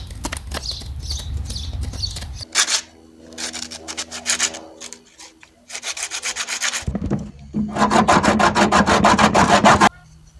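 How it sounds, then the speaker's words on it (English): Sandpaper rubs a carved wooden bushcraft spoon in loud, close, rasping strokes, first in quick scrubbing bursts, then a pause, then longer steady runs of sanding. "I'll be able to take some sandpaper and sand that out"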